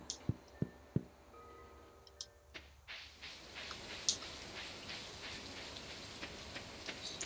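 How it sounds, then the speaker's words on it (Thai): Steady rain falls in Stardew Valley, an even close-up patter with scattered drop ticks that thickens after a few seconds, with sharp isolated taps early on. "ฝน"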